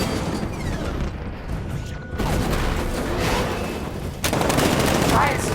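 Tank cannon fire in Batman: Arkham Knight: heavy booms land about two seconds apart amid rattling gunfire and whooshing effects, loud and close, with a brief voice in the background.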